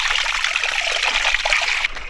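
Water trickles and splashes steadily from an old spring in a Uttarakhand hill village, close and continuous with a bright gurgling patter and no talk.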